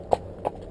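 A ridden horse's hooves strike the ground twice at a slow trot, two distinct close clops roughly a third of a second apart, with no talk over them.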